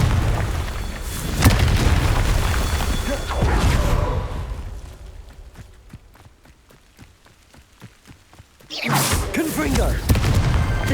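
A Confringo fire spell blasts in Hogwarts Legacy with heavy booming explosions and crackling debris, then a quieter stretch of rapid ticking before another loud burst.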